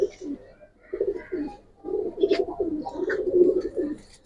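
Domestic pigeons kept in a home loft coo in repeated low rolling phrases close by, several birds overlapping, with faint chirps and rustling between the calls and no talk.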